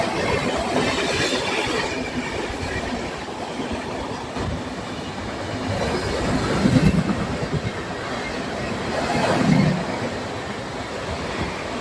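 The Darjeeling Mail train at a station, a loud continuous rumble of rail cars with clattering wheels and two heavier surges, with no voices.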